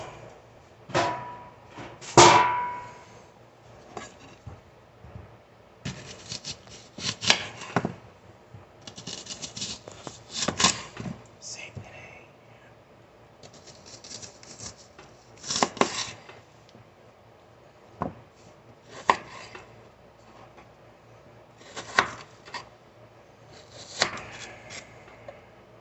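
A kitchen knife lopping the tops off vegetables on a cutting board, giving scattered sharp clacks and short runs of chops with quiet pauses between them, close and fairly crisp.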